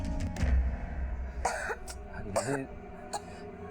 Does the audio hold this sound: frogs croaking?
no